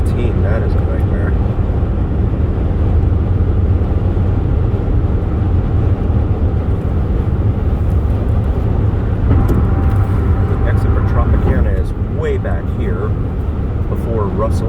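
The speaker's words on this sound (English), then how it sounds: "Traffic trying to exit there at the 215." Steady evening road traffic on the Interstate 15 near the 215 interchange in Las Vegas, a continuous loud rumble of many cars and engines with no breaks, under occasional talk.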